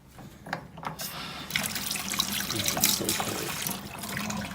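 Cold water running steadily from a tap into a sink in a home with no heat or hot water, a continuous close splashing trickle lasting throughout, with no talk.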